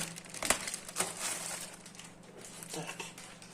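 Plastic bag crinkling as AliExpress women's moccasins are unpacked, close, dry rustles and crackles with a few sharper crunches, no talking.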